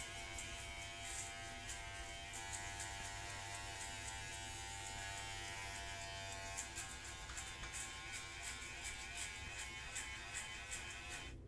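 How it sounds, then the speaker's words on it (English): Steady close electric buzz of a Glacier hair trimmer fitted with a T-blade, running continuously through a self-administered buzz cut, faint and even with slight changes as it moves across the head, no speech. "now I'm going in with my Glacier trimmers with the T-blade"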